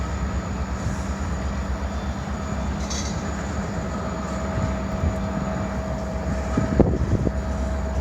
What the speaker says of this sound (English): So let's see how big this train is today.